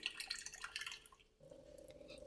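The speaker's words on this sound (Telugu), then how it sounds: "మెల్లగా నేను ట్యాప్ ఆన్ చేసిన, కొన్ని వాటర్ పోసుకుంటున్నా." A sink tap trickles water into a small cap, with faint patters and drips through the first second. After a short quiet gap, a thin ringing tone and a sharp knock end the clip.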